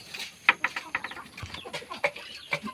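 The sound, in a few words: five-month-old Asil stag rooster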